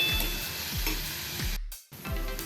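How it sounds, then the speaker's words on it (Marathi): Finely chopped onions sautéing in about three tablespoons of oil for a chicken gravy: a dense, close sizzle with rhythmic scrapes of a spatula at regular intervals and one brief break before it resumes. "मोठे कांदे अगदी मी बारीक चिरून घेतलेले आहेत ते घालूया आणि हे छान गुलाबी रंगावरती परतून घेऊया"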